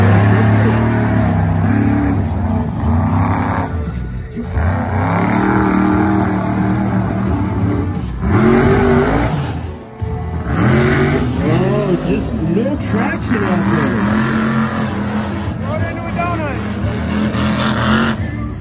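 A monster truck at a Monster Truck Insanity Tour event in Mona, Utah roars and revs loudly as its tires slide, the engine pitch rising and falling throughout, with an announcer talking over it.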